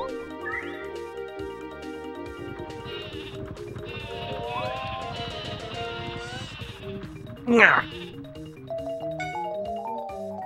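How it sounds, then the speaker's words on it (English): The sleepy sheep item in the video game Paper Mario sounds a series of bleats over bouncy game music, with a sharp bright accent partway through. "Use a sleepy sheep."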